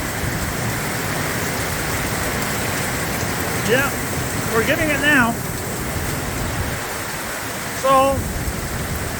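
Heavy rain pours on a sheep farm barnyard as a steady, broad hiss throughout. Sheep bleat briefly a few times in the distance, and a voice speaks a word.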